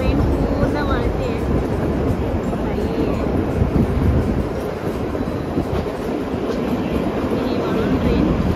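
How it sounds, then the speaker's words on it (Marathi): The Shimla–Kalka toy train running along a curving mountain track, a loud continuous rumble and rattle of wagons with wind buffeting the microphone, heard close from on board. "ट्रेन पूर्ण वळते."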